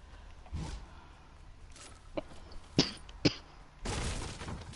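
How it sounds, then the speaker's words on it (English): A person coughs several times in short, sharp bursts spread over a few seconds, ending in a longer rasping cough, close and fairly loud against quiet background noise. "You're coughing, bro."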